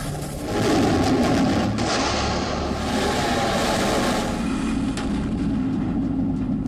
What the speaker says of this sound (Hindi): Supersonic BrahMos cruise missile.